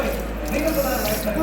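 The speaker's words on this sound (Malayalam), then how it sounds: "കുറച്ച് വെള്ളം കൈ കഴുകിയതാണ്" Water running from a tap while hands are washed, a steady close splashing stream with a faint voice beneath.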